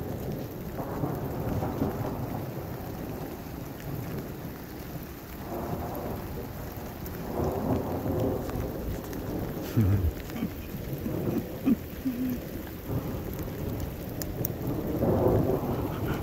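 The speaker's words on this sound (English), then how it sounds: "Comes the rain again." A heavy thunderstorm with pouring rain hammers down steadily, with deep rumbles of thunder rolling through close by, sustained and loud from start to finish.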